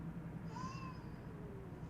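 A pet cat meows indoors, a few short rising calls over a steady low background hum, fairly faint and with no talking.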